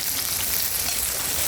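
Garlic and ginger fry in a pan while preparing a restaurant-style red pomfret chilli fry, giving a steady, dense sizzle with no pauses and no voices.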